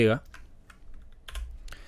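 A single press of the Y key on a computer keyboard while using Illustrator, a short crisp click at the start, followed by a few faint, quieter clicks.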